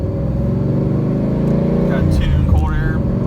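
A 2013 Mustang GT with a Flowmaster Thunder Series exhaust and X-pipe, a tuned cold air intake and a short-throw shifter, heard from inside the cabin while driving: a steady, loud low engine drone throughout, with a voice talking over it.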